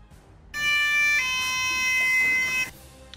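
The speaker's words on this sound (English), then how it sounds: "ThyssenKrupp MRL chime." A ThyssenKrupp machine-room-less (MRL) elevator chime rings out clearly on its own as a sustained, bright, multi-toned note lasting about two seconds before cutting off.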